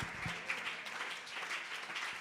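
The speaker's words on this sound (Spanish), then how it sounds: "déle ese aplauso al Señor" A church congregation applauds, a steady wash of many hands clapping, fairly faint and distant, with no voices over it.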